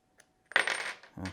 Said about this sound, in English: Drop your tool a couple of times naturally